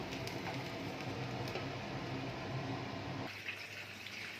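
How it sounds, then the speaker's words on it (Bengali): Tap water runs steadily into a kitchen sink for washing dishes, a faint continuous flow that thins out near the end. "এবার সকালের যে বাসনগুলো পড়েছিল সেই বাসনগুলোকে আমি এখন মেজে নেব।"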